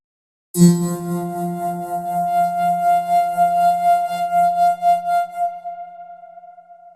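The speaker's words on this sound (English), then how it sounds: "the same feedback but at 24 semitones or 2 octaves higher" A sustained synth resonator feedback tone, pitched two octaves higher than the note, rings out with a bright, steady high pitch and a lower hum beneath, holding evenly for several seconds before fading slightly.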